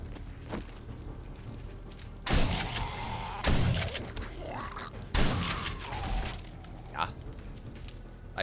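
Three loud, blasting gunshots in the video game 7 Days to Die (Alpha 20) go off a second or so apart amid busy, rumbling game action.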